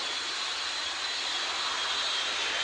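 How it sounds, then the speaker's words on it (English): The jet engine of a Kenworth jet funny car fires at a show, giving a loud, steady, hissing roar that continues without letup for a few seconds. "Kenworth Jet Funny car."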